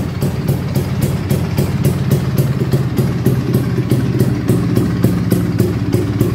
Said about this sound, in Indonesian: Gue suka banget sih dengar suara motor 2 tak atau Vespa 2 tak kayak gini tuh